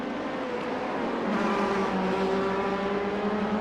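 Cadillac race car in iRacing at Daytona, its engine holding a steady, loud sustained drone with a slight rise in pitch partway through, alone without talk.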